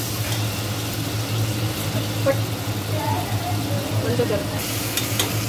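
Khichdi rice being sautéed and stirred in a pan with a little salt, a steady sizzle under a constant low hum, with a brief voice speaking over it.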